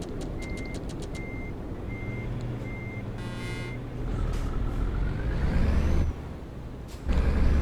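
Trucks manoeuvre at a busy depot with a steady, evenly spaced reversing beeper repeating at a moderate distance over rumbling diesel engines, an air-brake hiss and rising engine noise toward the end.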